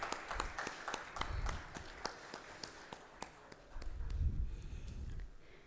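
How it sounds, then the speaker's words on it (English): Applause for dignitaries on a dais at a maritime promotional roadshow in Bhubaneswar, scattered faint claps in a steady rhythm with low rumbling bursts underneath, gradually tapering off. "can we have a bigger round of applause"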